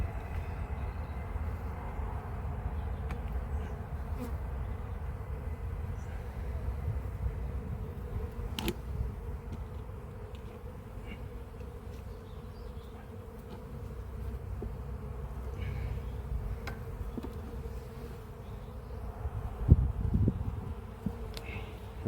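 Honeybees hum in a steady, dense buzz around an apiary hive, continuous and fairly close, with a low background rumble and a few brief knocks near the end.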